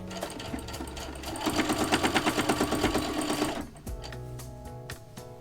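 A sewing machine stitching darts on a dress facing runs in a rapid, steady mechanical rhythm for about two seconds, then stops and leaves lighter clicking handling sounds.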